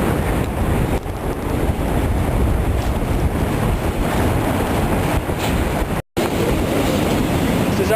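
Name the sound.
freight train passing on a viaduct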